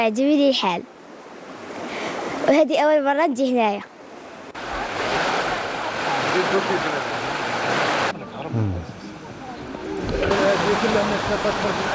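The Zondey waterfalls at the end of a hike: after a few seconds of voices, a loud, steady broadband rush of falling water fills the scene and continues to the end.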